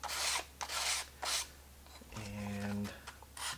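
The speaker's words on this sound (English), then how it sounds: "I'm just going to take the sandpaper, I'm just going to kind of slide it along the edge there" Sandpaper slides along the edge of a paper sheet in several short dry rasping strokes, close and fairly quiet, with a brief low hum partway through and a final stroke at the end.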